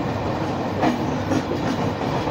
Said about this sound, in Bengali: ট্রেনকে স্লো করে দিয়ে পাস করছে অন্য ট্রেনকে